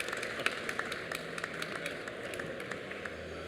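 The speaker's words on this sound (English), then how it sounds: "A round of applause, ladies and gentlemen." Scattered clapping from a small conference crowd, light and uneven, with individual claps popping out over a faint background murmur.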